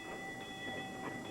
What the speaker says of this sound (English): visited aboard one of these sturdy little mine trains